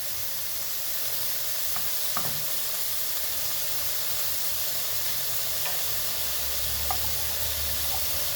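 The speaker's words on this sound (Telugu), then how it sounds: "బాగా ఫ్రై కానివ్వమ్మా, ఒక 2 మినిట్స్" Pieces of bottle gourd fry in a pan with a steady, close sizzle and hiss, broken by a few light clinks and scrapes of stirring.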